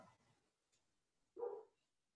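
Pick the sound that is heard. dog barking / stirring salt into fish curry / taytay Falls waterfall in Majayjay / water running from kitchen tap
dog barking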